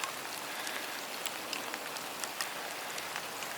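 Steady rain falls outside in the backyard of an abandoned 1950s mid-century bungalow, a continuous soft hiss with scattered raindrop taps, fairly faint and without voices.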